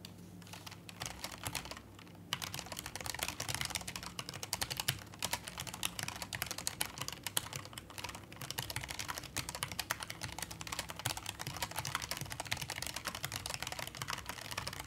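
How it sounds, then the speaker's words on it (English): Rapid, continuous clatter of a noisy computer keyboard being typed on, dense keystrokes running steadily and close up throughout with no talking. "my keyboard sounds like I'm typing really, really fast"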